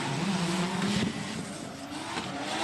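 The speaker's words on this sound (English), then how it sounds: "our overall champion, Ben Speed, pulls away from our rotary RX-7 FD." Drift cars racing head to head, a rotary Mazda RX-7 FD and a Nissan S15, with a continuous loud engine drone and tire noise that holds steady across the stretch.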